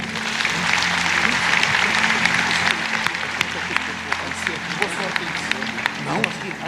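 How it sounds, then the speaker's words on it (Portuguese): A church congregation claps warmly to welcome Pastor Marco Feliciano, with dense, sustained applause and crowd noise that carries on steadily throughout. "vamos receber com uma calorosa salva de palmas"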